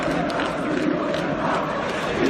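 A large crowd of angry football fans roars in a sustained, loud wall of shouting and chanting at an outdoor protest, with no break in the noise.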